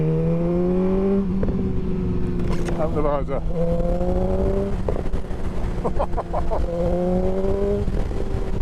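A motorcycle engine revs repeatedly in cold, wet autumn weather, pitch rising and falling through gear changes, loud and close, with a voice speaking briefly over it.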